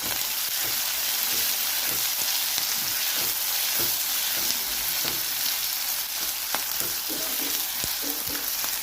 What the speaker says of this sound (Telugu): ఇప్పుడు ఉల్లిపాయలు, పచ్చిమిరపకాయలు, ఉడికిన బంగాళదుంపలు వేసుకొని వేయించుకోవాలి